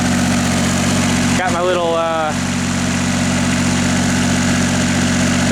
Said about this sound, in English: here's the light tower generator running